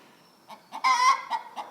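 A backyard chicken clucks and squawks in short, irregular bursts, one louder drawn-out squawk in the middle, moderately close with a quiet background.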